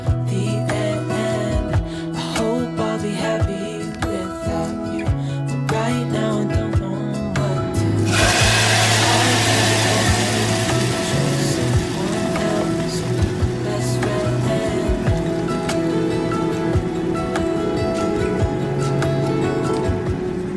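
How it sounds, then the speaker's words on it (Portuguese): Fresh red beans sautéing in a hot pan, a dense steady sizzle that swells loudly partway through and holds, close and continuous, over faint background music. "agora eu vou refogar o feijão"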